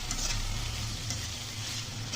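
Ash gourd cooks in a little oil, giving a soft, continuous sizzle and frying hiss at moderate distance with faint stirring.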